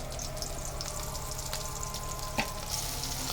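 Onion and chilli frying in oil on a stove, a soft continuous sizzle with faint stirring clicks and one brief clatter, moderately quiet with no talk.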